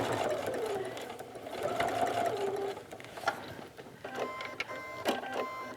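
A sewing machine stitches a seam on a ski vest, running in steady buzzing bursts that speed up and pause, close and clear with no talking.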